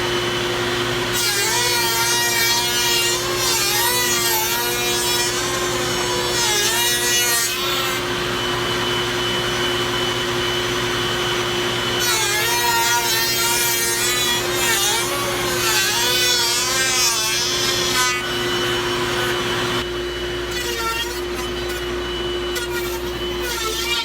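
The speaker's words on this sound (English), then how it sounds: "I can just set them in the router table and get the bit set to the right height, and then we'll run the cedar through that." Router table running a bit through cedar boards, a loud steady power-tool whine with several rising and falling cutting passes that dip between workpieces and continue throughout, no talking.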